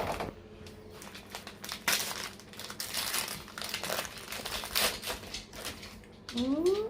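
Christmas parcel paper crinkling and rustling as it is unwrapped at home, a steady close run of crackles lasting throughout, with a brief squeaky sound near the end.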